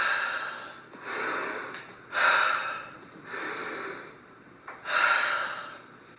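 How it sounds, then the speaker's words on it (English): Three deep breaths, each a slow, close breathy inhale and exhale, come in an even rhythm with short pauses between them and no talk. "Take 3 deep breaths."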